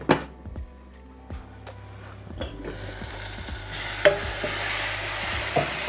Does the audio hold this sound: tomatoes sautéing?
yes